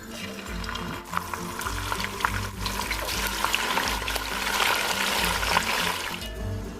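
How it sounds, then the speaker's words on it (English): Meat frying in hot palm oil for Nigerian ayamase stew, a steady, fairly loud crackling sizzle with bubbling and watery spatter running throughout, no talking. "then I will start frying the meat"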